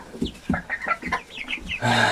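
Chickens cluck inside a warm, humid poultry house, a quick run of close clucks and short calls, followed by a steady background hum.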